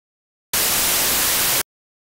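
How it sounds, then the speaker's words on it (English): A burst of steady white noise synthesized in Pure Data, hissing evenly across all pitches, switches on abruptly and cuts off after about a second, with silence on either side. "So let's start from the white noise."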